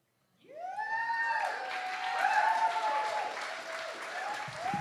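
An audience at a Verses Festival poetry slam preliminary claps for a poet, the applause swelling in quickly after a brief silence and holding steady and full, with a few cheers mixed in.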